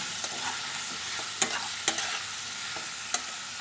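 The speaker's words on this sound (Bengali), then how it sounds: "এবার ভালো করে একসঙ্গে নেড়ে নেব।" Salt and ginger paste stirred together in a hot pan, a soft steady sizzle with several distinct scrapes of a spatula spaced a second or so apart, no talking.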